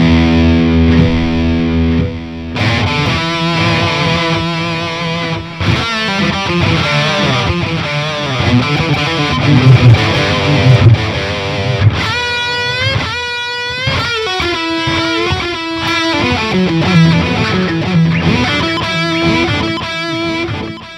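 Distorted electric guitar plays through a Bulldozer amp sim with a synced half-note delay, heavy saturated chords and sustained notes with repeating echoes trailing behind, loud and continuous.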